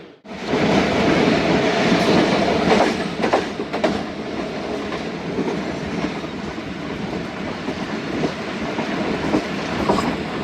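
The Khyber Mail pulling into Mian Channu railway station in Pakistan, a close, continuous rumble with rhythmic wheel clatter and metallic rattling over about ten seconds.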